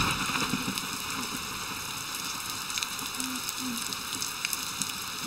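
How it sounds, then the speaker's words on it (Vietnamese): Rain falls steadily outside a house in a Vietnamese drama scene, a constant hiss and patter at moderate level with a few brief tonal sounds in the background and no speech. "Mưa thích thiệt đó, thấy không?"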